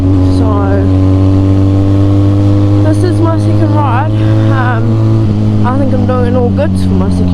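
Harley-Davidson X350 motorcycle cruising along a winding mountain road, its engine droning loudly and steadily with rising and falling pitch through gear changes and corners, wind rumble throughout.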